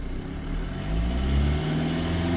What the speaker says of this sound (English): so I'm going to hold the revs up